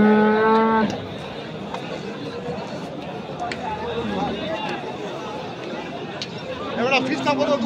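A tall cow moos loudly at the start, a long harmonic call, then a noisy outdoor livestock scene with people chattering in the background.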